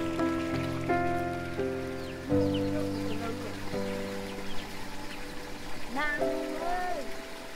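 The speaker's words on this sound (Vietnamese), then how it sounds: "Đêm nay lại mưa rồi." Steady rain falls at night in rural Vietnam, a soft constant patter under people talking throughout and a few brief calls.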